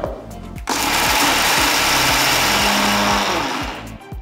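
A mixer grinder grinding roasted peanuts starts with a click and runs at a loud, steady high-pitched whir for a few seconds before winding down.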